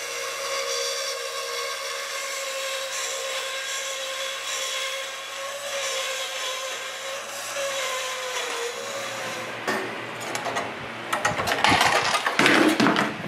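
A new fuel filter being cut open on a bandsaw. A loud, steady mechanical whine hums for most of the clip, then gives way to harsh, gritty cutting and rattling noise toward the end.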